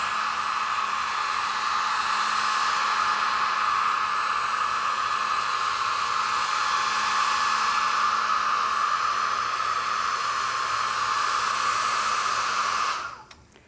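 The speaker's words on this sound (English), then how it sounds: "At this point, I like to dry the mat a little bit with a hairdryer." A hair dryer on a very low setting, held high above a French mat to dry it, blows as a steady loud whoosh with a constant hum that runs unbroken for about thirteen seconds before cutting off abruptly.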